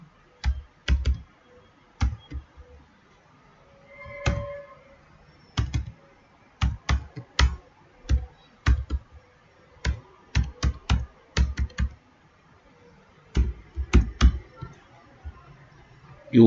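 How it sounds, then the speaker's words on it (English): A website address is typed on a computer keyboard in irregular bursts of crisp, close key clicks separated by short pauses, with one or two louder clacks standing out. "Then you will type your website here."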